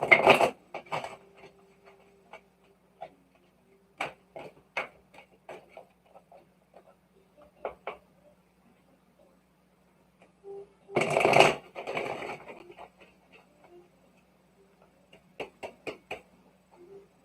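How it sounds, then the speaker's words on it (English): Tarot cards shuffled by hand before a collective reading, giving soft irregular riffling clicks and flutters with two louder bursts of shuffling, heard alone against a quiet background hum. "I'm just going to be shuffling the cards"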